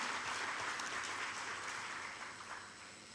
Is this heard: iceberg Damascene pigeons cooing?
no